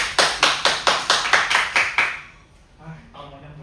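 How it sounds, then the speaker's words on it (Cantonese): A class of students claps in unison, nine crisp, evenly spaced beats at close range, then falls silent before someone speaks briefly. "掌聲！"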